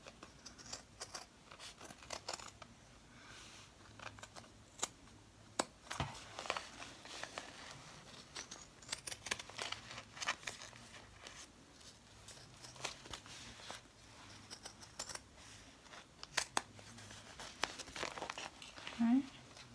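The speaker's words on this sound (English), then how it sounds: "So I'm going to just get some scissors, and I am going to just cut all the way around." Scissors snip around the edge of an embroidered glitter star banner made in the hoop, with close, irregular crisp cuts and fabric crinkling at a quiet level, no talking over them.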